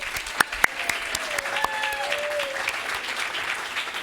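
An audience at a talk on the history of the Laguna Beach Lifeguards breaks into warm applause, dense clapping with a few sharp nearby claps standing out and a brief murmur of voices underneath.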